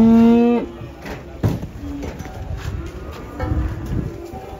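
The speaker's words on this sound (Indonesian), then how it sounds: "Kedatangan sapi raksasa ini di pasar Pon Ambarawa." Giant cows at the Pon market in Ambarawa give one long, loud, close moo, followed by lowing and shuffling livestock noise and faint birds in a busy outdoor setting.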